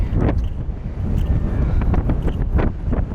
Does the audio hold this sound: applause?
no